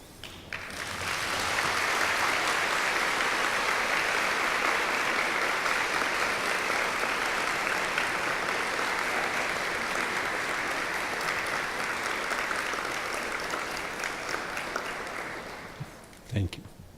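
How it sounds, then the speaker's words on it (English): A graduating class at a commencement ceremony gives a long, steady round of applause for their families, loud and continuous crowd clapping that swells and holds for about fifteen seconds before tapering off. "express your appreciation to your families and friends by offering them a round of applause"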